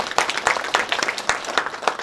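Sparse, uneven clapping from an audience at a university faculties event, a handful of separate claps in quick irregular bursts over two seconds, close and fairly loud.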